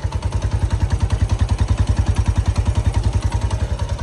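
A Suzuki GS150 motorcycle engine on its stock exhaust idles close by, with a steady, evenly pulsing thump and a light mechanical clatter over it, with no voices.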